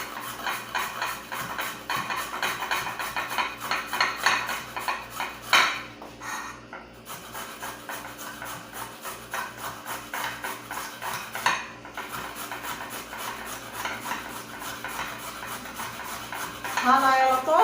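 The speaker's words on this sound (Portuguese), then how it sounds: "Eu gosto de ralar nesse ralo que tem a parte grossa e a parte fina" A carrot is grated on the coarse side of a box grater, repeated rhythmic scraping strokes with metallic clinks and brief pauses, moderately close.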